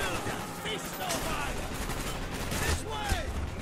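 Dense, continuous gunfire in Call of Duty: Black Ops, many distant overlapping shots forming a steady rattling fusillade with no single shot standing out, under a busy battlefield wash.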